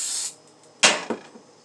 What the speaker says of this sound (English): So you want to spray your spoon.